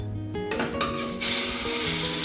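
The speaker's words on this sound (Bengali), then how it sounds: "এখন একটু শুধু বেগুন ভেজে নেব" Sliced brinjal (eggplant) fries in a pan. Utensil clatter comes first, then a loud, steady sizzle sets in and holds to the end, with faint tonal sounds in the background.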